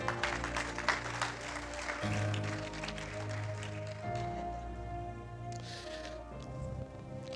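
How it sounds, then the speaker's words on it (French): A church congregation applauds the Lord, a quiet wash of clapping over a sustained organ-like tone, with voices mixed in, tapering off in the later seconds. "Est-ce que tu peux acclamer les Seigneurs?"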